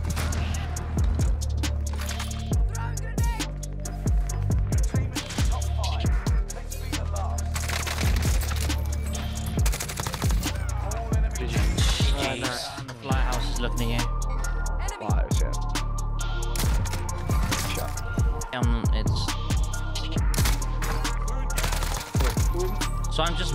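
Grau 5.56 assault rifle fire in Warzone, a dense, continuous stream of loud rapid shots and short bursts under other game sounds and noise.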